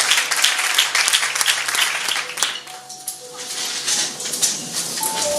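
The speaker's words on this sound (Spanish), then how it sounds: "¿Qué les parece si le damos un aplauso a la palabra del Señor?" A church congregation applauds after a Bible reading, lively clapping that thins out midway and then picks up again, with a few brief tonal sounds and faint voices mixed in.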